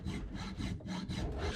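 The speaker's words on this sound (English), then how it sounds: "I will just file down the bulk of the material" A hand file rasps back and forth over the workpiece of a homemade try square, steady rough strokes in an even rhythm, close and alone.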